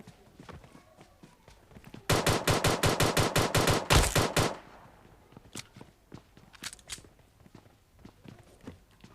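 Gunfire in the BGMI (PUBG) mobile game, a fast burst of about fifteen loud, evenly spaced automatic shots lasting around two seconds, surrounded by quieter footsteps and scattered light thuds.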